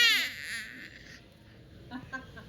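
A small child imitates a cat's cry with one short, high, wavering meow-like wail right at the start. The voice fades away, and a couple of faint vocal sounds follow.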